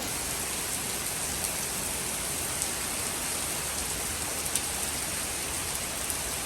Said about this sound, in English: we have set up our tent, but it is downpouring